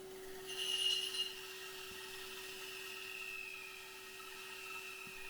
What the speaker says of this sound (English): I've lowered the volume on the sound of the bandsaw to save your ears.